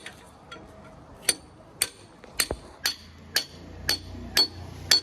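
A hammer strikes a stuck part in a repeated series of about nine sharp metallic blows. The blows are evenly spaced and fairly close.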